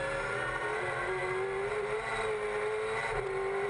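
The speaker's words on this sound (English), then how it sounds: "A wheel spin. Lots of wheel spin. Sliding the car on the exits." A V8 touring car races at Wakefield Park in the 2014 Kumho series, its engine a loud, continuous high-revving roar with the tone wavering as the wheels spin and the car slides out of a corner.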